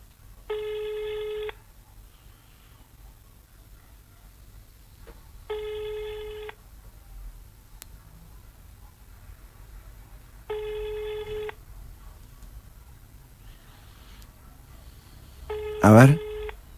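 A telephone on speakerphone rings unanswered in a studio, four evenly spaced long ring tones several seconds apart, clear over a quiet background, with a short burst of talk near the end.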